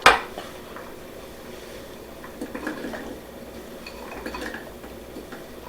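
Potatoes are dropped into a stew pot, opening with a sharp, close clatter against the metal, then softer knocks and rustles of pieces settling over a quiet background.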